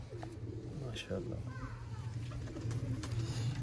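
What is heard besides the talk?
breeder pigeons cooing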